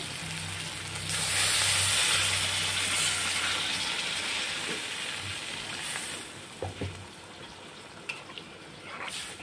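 A loud burst of hissing sizzle as water hits a hot pan of fried chicken, settling into a steady bubbling sizzle with a few utensil knocks toward the end.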